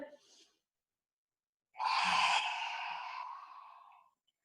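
A long, deep breath drawn in during a Qi Gong breathing exercise, heard close and alone after a short silence, steady and airy for about two seconds before trailing off.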